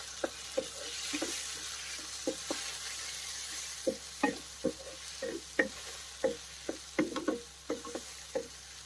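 Chopped onions and tomatoes frying in a pan for a spicy fish curry, with a soft steady sizzle broken by regular sharp taps and scrapes of a spatula stirring, close and fairly quiet.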